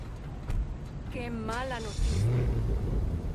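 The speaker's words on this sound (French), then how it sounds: "Voilà, déjà quand ça démarre, un magnifique bruit" A sports car engine in GTA 5 starts with a rising rumble and settles into a deep idle, with a voice talking briefly over it.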